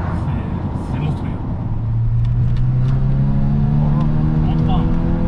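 A Volkswagen Scirocco R with a stage 2 tune accelerates hard, its engine note rising steadily through the revs over several seconds, loud and close from inside the car, while people talk over it.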